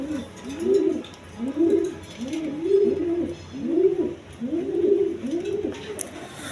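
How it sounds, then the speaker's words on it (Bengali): A pair of original Indian Bombay pigeons, a male and a female, coo in a steady repeating rhythm of about six rolling calls, close and clear over a faint background. "এখানে এক পেয়ার ইন্ডিয়ান বোম্বাই কবুতর, অরিজিনাল ইন্ডিয়ান বোম্বাই"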